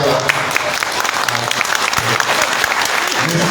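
An audience applauds after a stage play, with dense, continuous clapping from a crowd, loud and close throughout.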